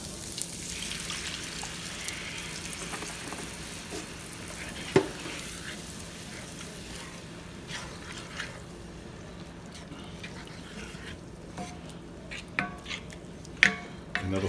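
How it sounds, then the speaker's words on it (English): Milk gravy bubbles and sizzles softly in a frying pan while a spoon scrapes and stirs the bottom, with a steady low simmer and occasional sharper clinks toward the end. "Just keep moving the bottom around, keep stirring it"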